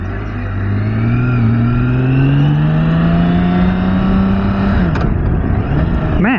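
A BMW K 1600 B motorcycle accelerates hard while being ridden, its engine note loud and close, climbing steadily in pitch before a quick gear change near the end and another rise.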